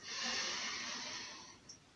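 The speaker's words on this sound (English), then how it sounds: "We're breathing in and out." A single long breath, likely an exhale, during a guided breathing exercise: a close, soft, airy rush that fades over about two seconds, with no talk.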